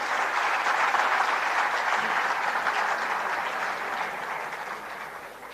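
Audience applauding at an inaugural HR summit, a broad sustained roar of clapping from a large hall that gradually fades toward the end, with no speech over it.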